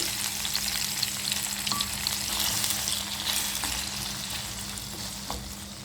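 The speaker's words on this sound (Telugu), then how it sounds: "ఇదే బాణీలో ఆల్రెడీ మనం తరిగి పెట్టుకున్న టమాటాని యాడ్ చేసుకుని పూర్తిగా మగ్గనివ్వాలి" Chopped tomatoes fry in a pan for a Telugu tomato-coriander chutney, giving a steady, close, dense sizzle that runs the whole time with a few faint clinks.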